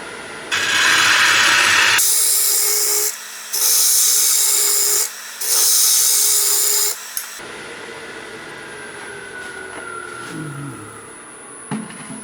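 Power carving tool grinding and scraping epoxy-finished wood in three loud, rough bursts separated by short pauses, followed by the tool's quieter whirring spin-down.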